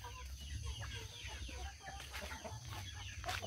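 Chickens in a low backyard colony coop holding one rooster to five hens cluck repeatedly in short soft bursts over a steady low background hum, faint and close.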